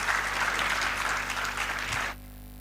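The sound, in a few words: audience applause at literary festival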